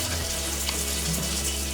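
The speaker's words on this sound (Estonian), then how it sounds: "Vesi tuleb. Igalt poolt." Water sprays and hisses steadily out of leaking fittings on a water heater, a dense, close, continuous rush with no talking.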